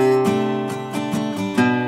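An acoustic guitar picked close up, a handful of clean individual plucks where the pick strikes the fourth string, each note ringing briefly over a sustained chord, with no talking.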